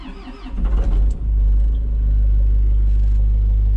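The engine of a piece of boom equipment cranks over briefly, catches and fires, then settles into a loud, steady low idle rumble that continues close by.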